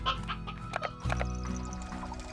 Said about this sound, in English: let's get this old rooster